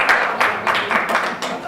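Audience applause at a standup comedy show, a brief burst of scattered clapping from a small crowd, fairly close, coming in uneven waves.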